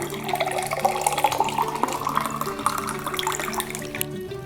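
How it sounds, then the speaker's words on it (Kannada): Water is poured steadily into a pot for a neem leaf herbal decoction, a continuous splashing, gurgling stream up close that runs the whole time and cuts off at the very end, with no talk. "ಸೊ ಈಗ ನಾವು ಅಷ್ಟು ನೀರನ್ನು ಹಾಕ್ಕೊಳ್ಳೋಣ"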